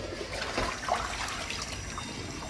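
Fresh water poured into a container while soaking meat preserved with black pepper and salt, a steady splashing, trickling flow running continuously and fairly close, with no talk over it.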